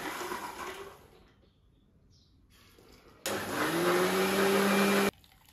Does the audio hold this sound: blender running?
yes